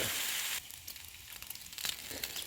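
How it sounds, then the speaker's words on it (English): Bacon frying in a pan for bacon cheeseburgers, a steady broadband sizzle with crackling pops that grows a little louder toward the end, heard alone without talk. "let me get this fried up"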